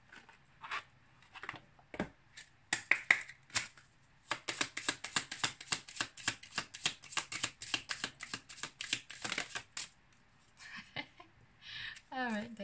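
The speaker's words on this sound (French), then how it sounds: "on va maintenant prendre une carte de mes petites prières aux anges" A deck of oracle angel prayer cards is shuffled in rapid, crisp riffling bursts over several seconds, with a few scattered card taps before and after.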